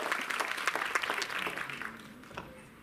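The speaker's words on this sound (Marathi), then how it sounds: "एकदा जोरदार टाळ्यांचा आवाज मला आला." An audience at a Women's Day felicitation ceremony breaks into clapping, a brisk scattered burst of hand claps that thins and fades toward the end.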